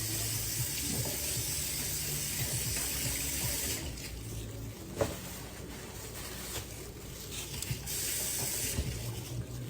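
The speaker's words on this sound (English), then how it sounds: "Rinse off the seeds." Tap water runs steadily into a sink while green pepper seeds are rinsed, a close, continuous wash of splashing with small shifts as the stream hits the pepper.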